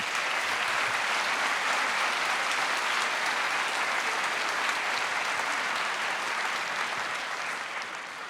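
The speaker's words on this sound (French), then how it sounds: "je pense qu'on peut l'applaudir" An audience claps at a children's choir concert in an auditorium, a dense steady applause that continues evenly for several seconds and fades slightly at the end.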